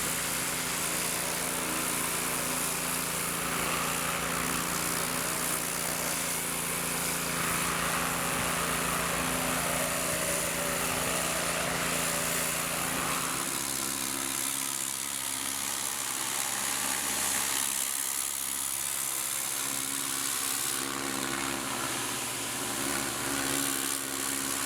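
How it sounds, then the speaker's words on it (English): A gas-engine pressure washer drones steadily while power washing a house, near and constant for the whole stretch with a slight shift in pitch and load partway through, and no talk. "we're just cruising right along here, power washing"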